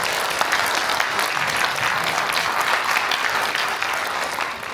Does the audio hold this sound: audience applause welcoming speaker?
yes